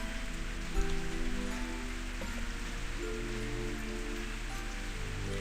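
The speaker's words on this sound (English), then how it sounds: "Cold rain trickling down my cheeks." Steady rain falls in the intro of the visual novel Period, a soft continuous patter under sustained low musical tones, with one brief louder knock early on.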